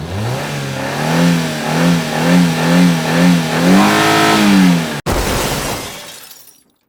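A car engine revs loudly in repeated rising and falling surges, then a sharp crack, and the engine fades away as the car drives off.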